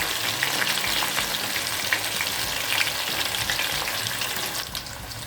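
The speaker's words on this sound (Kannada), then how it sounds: "ಇದು ಆಲ್ಮೋಸ್ಟ್ ರೋಸ್ಟ್ ಆಗಿದೆ. 2 to 3 ಮಿನಿಟ್ಸ್ ರೋಸ್ಟ್ ಮಾಡಿದ್ದೀನಿ" Chicken kabab pieces roasting in a pan, giving a continuous close, even frying sizzle with light crackles and no voices.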